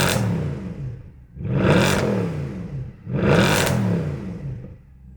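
Mercedes-AMG GT Black Series engine and exhaust revving, two strong surging revs rising and falling in a steady rhythm, loud and close, with no talking.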